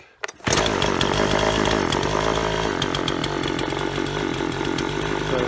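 Husqvarna 137/142 chainsaw engine starting up and then idling steadily: a loud, close, buzzing two-stroke drone that holds a constant rough pitch with small fluctuations, no talking over it.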